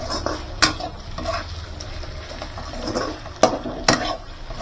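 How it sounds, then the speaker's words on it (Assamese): Pork pieces coated in spice masala stirred in a pan, with scraping of a spoon against the pan and sharp clinks over a soft frying sizzle. "সেইখিনি গোটেইখিনি মাংসত লগাই দিম আৰু লাৰি লাৰি"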